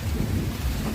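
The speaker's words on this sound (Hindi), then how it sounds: "बादल गरज रहे हैं, बारिश हल्की हो गई है।" Low rumbling thunder rolls beneath a steady wash of rain in Guranse, Nepal, continuous and fairly loud, with no one speaking.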